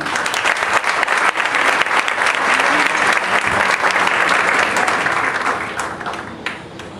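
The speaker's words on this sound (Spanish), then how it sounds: "Vamos a recibir con un fuerte aplauso al doctor Luis Gómez Mejía." A lecture audience gives loud, sustained applause to welcome Dr. Luis Gómez Mejía before his talk on business research in Latin America. The dense crowd clapping stays full for several seconds, then thins and tapers off toward the end.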